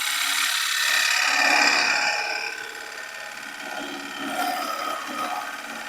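A tool cuts into Russian olive wood with a steady, close rasping scrape that rises and eases in intensity over several seconds, with no voices.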